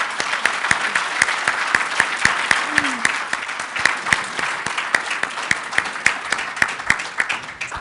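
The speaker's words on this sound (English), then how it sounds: "How about a round of applause for our panelists?" An audience gives panelists at a marketing leadership event a round of applause, steady, fairly loud clapping with sharp individual claps standing out over the mass, and a brief voice under it.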